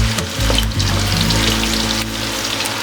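Chopped onions and onion paste frying in hot oil for a Bengali mutton curry, a close, loud continuous sizzle with faint crackles and a low hum underneath.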